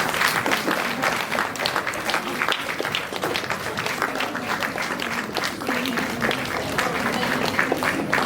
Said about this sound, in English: Audience, please cheer.